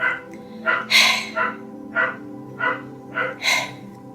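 A dog barks in a run of about eight sharp, loud, close barks at an uneven pace, with no speech over them.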